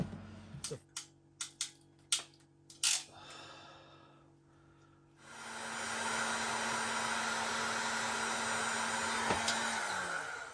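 A few sharp clicks and taps, then a heat gun switches on and blows a steady loud whoosh while shrinking heat-shrink tubing over crimped wiring connectors in a Sprinter van build.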